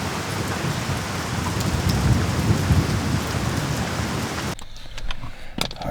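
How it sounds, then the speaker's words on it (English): Steady heavy rain pours at night around a mountain campsite near Huron Peak in Colorado's Collegiate Peaks, with a low thunder rumble building beneath the downpour before the sound cuts to near quiet with a few faint drips. "That was some legit thunder."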